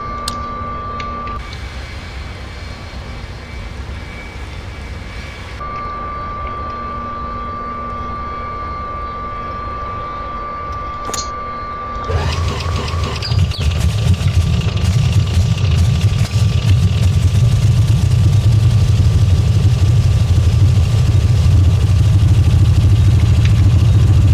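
A steady engine drone with a faint tone runs, then swells into a louder, rougher roar of a Beechcraft D18S's propeller engines throttling up and holding, in a flight simulator.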